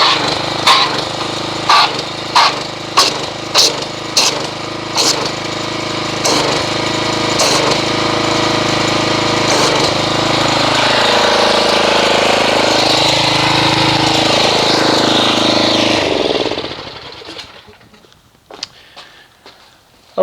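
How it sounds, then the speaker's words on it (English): A pressure washer runs while foaming car wash shampoo, a loud steady close drone with sharp clicks early on and a wavering pitch mid-run, then cutting off, with brief knocks after. "So let's get the pressure washer, agitate it, and see what kind of foam it makes."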